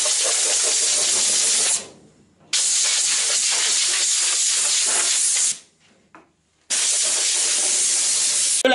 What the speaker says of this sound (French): un bon coup de soufflet pour sachet, chasser les dernières poussières